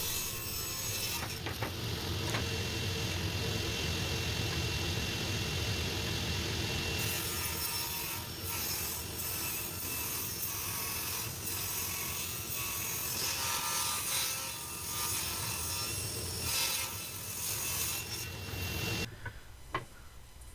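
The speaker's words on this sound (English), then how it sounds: "I had to stop the table saw and move the fence over a little bit to get the 2x4 to push all the way through the blade" A table saw rips a 2x4 lengthwise, a loud continuous whine and grinding roar that holds for most of the span, shifts in tone partway through and cuts off abruptly near the end, with no voices.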